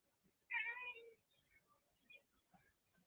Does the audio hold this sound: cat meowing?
yes